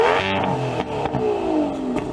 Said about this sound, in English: Can you rev up your car, Sam?